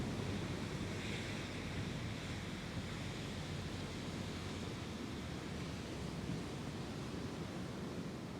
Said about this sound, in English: the waves as they lap upon the shoreline.